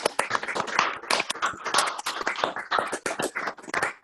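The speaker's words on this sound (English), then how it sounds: "would everybody like to unmute themselves and give Mark a round of applause?" Scattered, uneven clapping from several people unmuted on a video call, with irregular bursts of hand claps that overlap without a shared rhythm.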